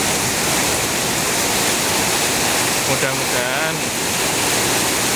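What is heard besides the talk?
strong wind with heavy rain in Surabaya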